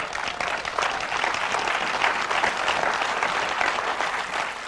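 Church congregation clapping in sustained applause, a dense crowd of hands heard close and steady for several seconds.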